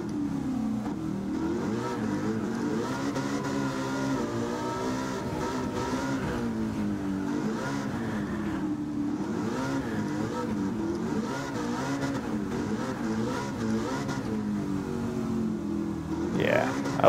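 Car engine in Gran Turismo 7 revs and accelerates through shifting pitch sweeps, loud and continuous, rising sharply at the end with some talk mixed underneath.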